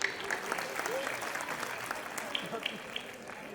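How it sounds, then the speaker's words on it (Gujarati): An audience claps in a hall, the applause steady but fairly faint and distant, with a voice talking over it for much of the time. "તાળીઓ થઈ જાય સાહેબ."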